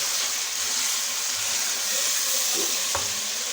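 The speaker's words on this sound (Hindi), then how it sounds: "अभी इसको प्याज में डाल के फ्राई करना है थोड़ा सा" Mutton frying with onions in a karahi, a loud, dense sizzle throughout with stirring and a sharp scrape near the end.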